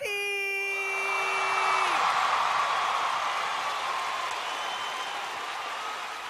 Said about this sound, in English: another big round of applause for my friend, the man, the myth, the legend